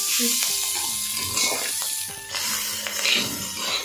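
Marinated rice hitting hot ghee with whole spices for Kashmiri pulao gives a steady, close sizzle and hiss that runs the whole time, with voices talking over it.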